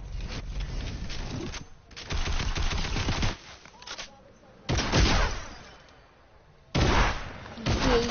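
Pistol gunfire in Fortnite comes in several short bursts of shots separated by quieter gaps, fairly close and loud, with a voice talking in between.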